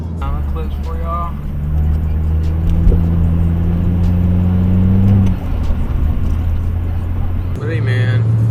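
A car engine drones close by from inside the cabin, swelling as the car is floored with a rising tone that then settles, while a person talks over the engine noise.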